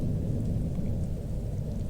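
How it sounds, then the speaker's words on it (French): Rain falls in the horror video game The Joy of Creation as a steady, dense wash with a deep rumbling undertone, continuous and fairly loud, with no speech. "Ah, il pleut."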